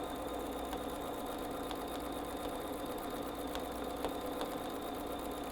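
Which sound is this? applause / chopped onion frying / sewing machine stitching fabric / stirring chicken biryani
sewing machine stitching fabric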